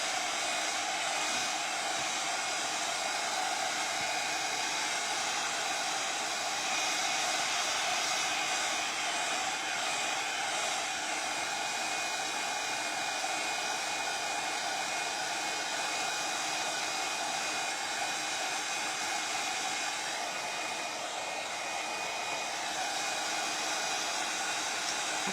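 Hair dryer blowing steadily on black carbon paste spread over a wooden cross, a constant close airy roar with a whine, unbroken and alone for the whole stretch.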